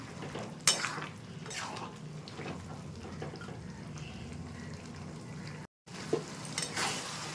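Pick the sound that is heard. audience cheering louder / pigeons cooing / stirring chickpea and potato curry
stirring chickpea and potato curry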